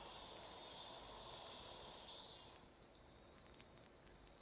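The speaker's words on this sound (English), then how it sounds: "so we have different type of cicadas" New Zealand cicadas chirp in a loud, steady high-pitched buzz that pulses slightly, with a brief dip partway through before the droning chorus resumes.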